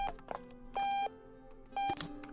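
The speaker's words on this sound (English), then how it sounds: "We need to turn off the alarm" An alarm in a comedic octopus-dad household game gives repeated electronic beeps, three steady tones spaced about a second apart, each held briefly over clattering household sounds.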